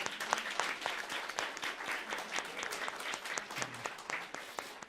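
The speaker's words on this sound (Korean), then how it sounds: "잘할 수 있도록 격려의 박수." A Korean church congregation claps in encouragement at a New Year Sunday service, sharp individual claps forming a lively, uneven rhythm, fairly close and moderately loud, with a faint voice underneath.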